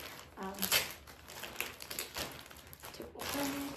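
Packaging from a jewelry accessories order crinkles and rustles in short irregular bursts as it is opened with scissors, close and fairly quiet, with a voice speaking faintly between the crackles.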